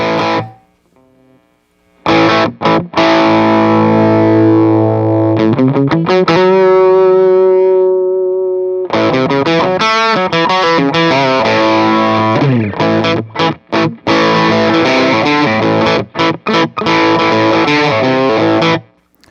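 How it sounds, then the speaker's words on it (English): Loud, gritty electric guitar through stacked overdrive pedals with a boost plays a sequence of chords and single notes with short stops between them, heavily saturated and close. "So let's add the boost line driver and dial the gain until we get what we want."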